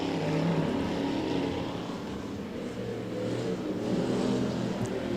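A limited sportsman race car, the Sharrock entry number 6, drones with a sustained engine roar at moderate distance that holds fairly even and unbroken throughout, with no talking.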